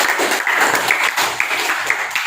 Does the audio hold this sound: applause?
yes